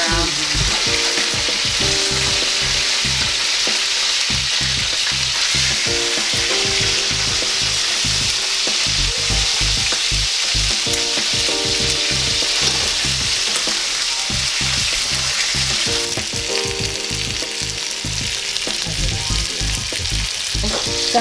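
Food for a chicken and noodles dish fries loudly in a pan and is tossed around, a dense continuous sizzle with repeated scraping and shuffling throughout, close up and without speech.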